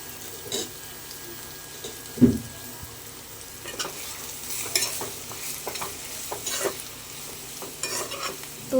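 Sliced onions sizzle in a hot pan for a Telugu-style chicken fry while a spoon stirs them with intermittent scraping and clinking strokes over the steady frying hiss, close by and without talk.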